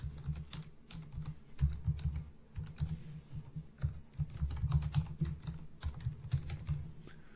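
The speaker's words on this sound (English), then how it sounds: "And just type in Mighty Mike's Mortgages." Steady typing on a computer keyboard while entering a vendor name into QuickBooks, quick irregular key clicks running throughout at close range, with no talk.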